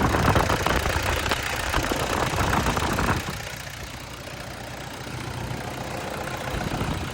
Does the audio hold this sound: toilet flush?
no